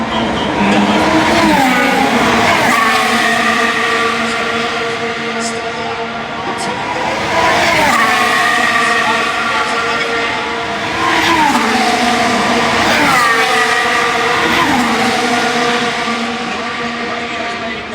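Formula 1 race cars roar past on track, including Max Verstappen's Red Bull on soft compound tyres with downshift issues, engines rising and falling in pitch across several passes; continuous loud engine tone, talk present.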